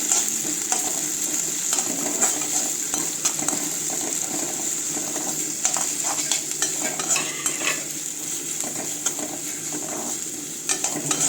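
Chicken fry with onions sizzling in a pan while being stirred, a constant loud hiss with scraping and clinks of the spoon against the pan, no talking.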